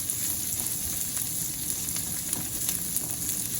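Homemade preserved pork belly sautéing in a pan for fried rice, a dense, even sizzle that crackles steadily throughout without any talking.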